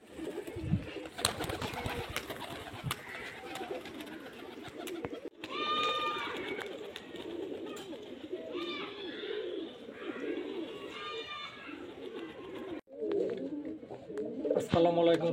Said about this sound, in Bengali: চলুন মুর্শিদাবাদের গিরিবাজ পায়রা কী আছে সব দেখে নিই